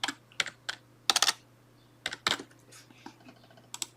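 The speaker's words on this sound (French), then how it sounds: "je vais marquer Pierre, je vais créer un dossier" Typing on a computer keyboard: sharp, close key clicks in short irregular clusters with pauses between, a faint steady hum underneath.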